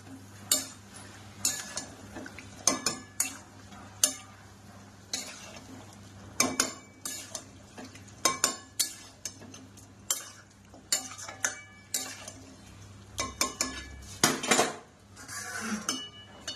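A spoon scrapes and clinks against a pot as mutton is stirred and sautéed, an irregular run of close metallic knocks over a faint low sizzle, with no talking.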